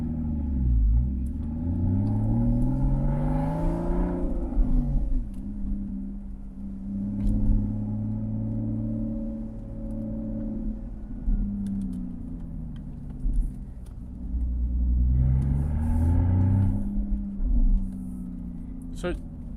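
A Porsche Boxster 981 with an FVD Stage 1 tune cruises in non-sport mode, its engine droning low and steady with a few rising swells, while someone talks over it from inside the car.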